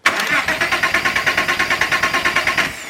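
A manual Porsche Cayenne engine cranks steadily with a fast, even rhythmic churn of the starter, roughly a dozen pulses close by, never catching and firing, then cutting off.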